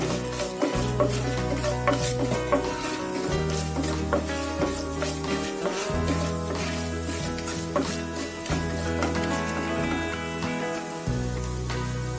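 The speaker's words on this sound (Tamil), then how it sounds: "கொஞ்சம் கடலை பருப்பு, கொஞ்சம் உளுத்தம் பருப்பு போட்டுக்கிறேன். நல்லா வறுத்துக்கோங்க." Chana dal and urad dal roast in hot oil with mustard seeds and cumin in a pan for South Indian bread upma, giving a steady sizzle and scraping stirring strokes under background music, with no talking.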